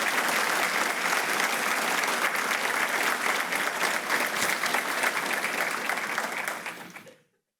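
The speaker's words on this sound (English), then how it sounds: "how about a round of applause for the amazing chamber team?" Sustained applause from a large audience of about 400 at a public safety awards ceremony, dense and steady clapping filling the room for about seven seconds before quickly fading out.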